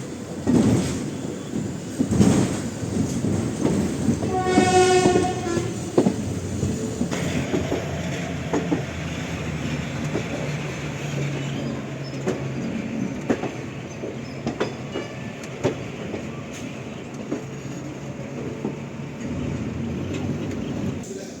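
A train arriving at Tiruchirappalli Junction station rumbles steadily with rhythmic clickety-clack of wheels and a brief high squeal, the rolling noise continuing evenly throughout.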